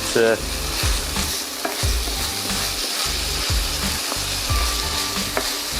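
Beef browns in a frying pan with a constant sizzle, broken by regular scraping knocks of a utensil stirring the meat every half second or so, close and clear.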